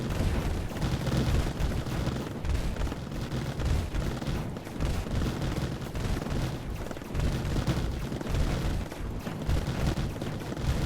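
Dense, continuous gunfire and booming weapon fire from enemy units in the strategy game Mindustry on the Erekir campaign, a steady loud barrage of overlapping shots and impacts with no pauses, no voice over it.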